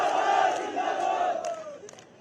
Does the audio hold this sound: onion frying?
no